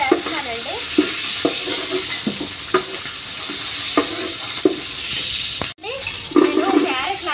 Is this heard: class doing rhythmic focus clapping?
no